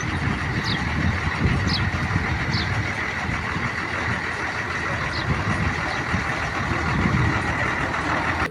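A parked vehicle's engine idles with a steady low rumble that runs unbroken throughout, close and fairly loud, with faint high beeps recurring in the background on a road near Ghogha village.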